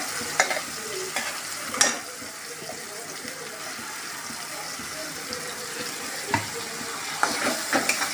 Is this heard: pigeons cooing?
no